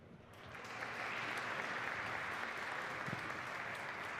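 Crowd applauding at a pool championship match, applause rising quickly from a lighter start into a sustained, dense clapping that continues steadily to the end.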